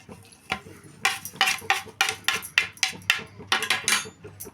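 A spoon scraping and knocking against a pot while rice flour batter with spices is stirred, a series of sharp, close metallic clanks in an uneven rhythm with quiet gaps.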